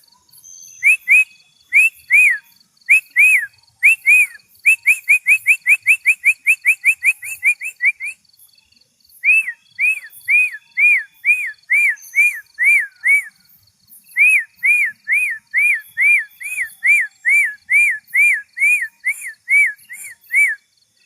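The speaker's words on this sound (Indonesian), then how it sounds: "Dan sekarang aku lanjutkan dengan siulan." A person whistling at night to summon spirits, repeated short rising-falling whistles in quick rhythmic runs separated by brief pauses, clear and close with nothing else behind.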